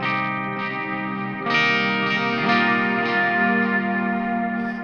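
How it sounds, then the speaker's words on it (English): A sustained electric guitar drenched in heavy reverb and delay, chords ringing into long washy echoes that swell and overlap with no voices. "That's some big reverb delay."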